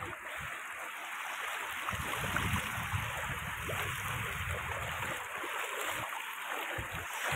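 Several people wade across a cold forest stream, water sloshing and churning around their legs amid a steady rushing flow and some wind noise, continuous and fairly close with no talk.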